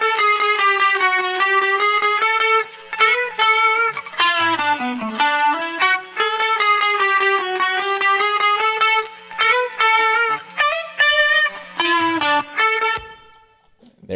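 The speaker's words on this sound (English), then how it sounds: "we got a guitar and saxophone duo here playing this lead line" A guitar and saxophone duo plays a lead melody together in a funk mix. The notes are bright and sustained, with short gaps and staccato stabs, loud and upfront with no talking.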